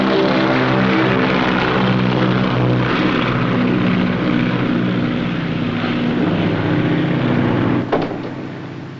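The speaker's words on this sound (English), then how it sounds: "It's only the mail plane for London." A propeller mail plane bound for London drones loudly and steadily overhead, a continuous engine roar that holds throughout and eases slightly near the end.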